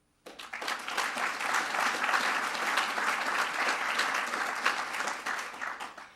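An audience at an annual health services meeting breaks into steady, enthusiastic applause that starts abruptly, holds full and dense for several seconds, then begins to thin out.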